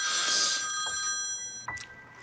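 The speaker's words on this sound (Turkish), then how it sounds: "Sabahtan beri telefonu çalıyor." A telephone rings loudly nearby, the bright tone fading over a couple of seconds before cutting off, followed by a brief handling click as the receiver is picked up.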